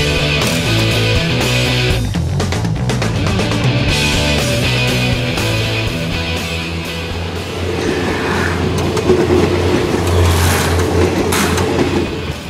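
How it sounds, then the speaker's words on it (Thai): A train passes close by, a loud rumbling roar with clattering wheels that swells and shifts in tone over about twelve seconds, heard alone. "ภาพช็อตที่เป็นรถไฟผ่านหน้ามานะครับ"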